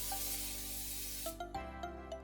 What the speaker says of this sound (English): We're gonna spray some olive oil into the basket.